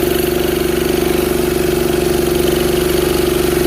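A worn junker ATV engine runs at a steady idle, close and loud, its rapid even putter holding a constant pitch with no pauses.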